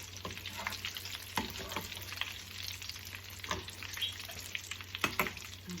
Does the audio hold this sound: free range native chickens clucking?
no